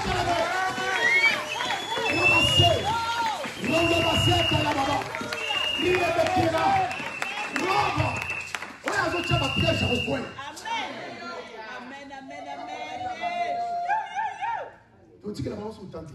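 A church congregation at a Sunday service cheers, shouts and claps together in a loud, sustained roar of many voices, which thins toward the end into scattered calls and chatter.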